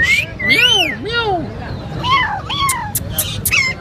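A parrot at a Sunday bird market in Karachi imitates a cat's meow, giving a run of rising and falling mewing calls, close and fairly loud, over busy market chatter and babble.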